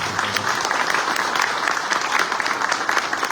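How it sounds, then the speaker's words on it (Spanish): Applause from an audience at the opening of an exhibition on four revolutions in Mexico and Cuba at the Vanegas Arroyo printing house, dense steady clapping from many hands throughout. "Un aplauso para ellos."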